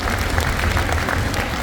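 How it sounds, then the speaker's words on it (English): Parents and audience at a MWSA spring orchestra concert clap together in a steady, dense round of applause that fills the hall at even loudness throughout. "Let's give yourselves a round of applause"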